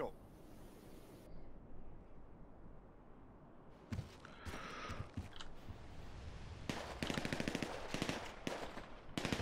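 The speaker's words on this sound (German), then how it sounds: "Schüsse im PD, sehe ich das richtig? Das war der Schießstand." Bursts of rapid gunfire crackle in quick volleys, some sustained like automatic fire, against a faint background murmur, at a shooting range in the video game GTA.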